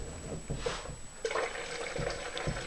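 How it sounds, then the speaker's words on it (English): Cold water poured into a gourd of yerba mate, a soft liquid pour and trickle running steadily and close, with faint brief taps at the start. "Just a little bit of cold water, and then you pour it for the first time."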